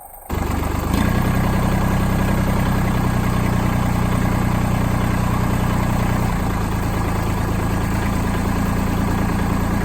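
A GC1705 small glow-plug engine, its fuel screw freshly adjusted, settles into a low, steady idle after a quick start and chugs loudly and evenly at close range for about ten seconds, with no speech.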